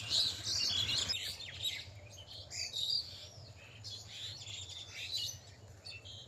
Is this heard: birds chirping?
yes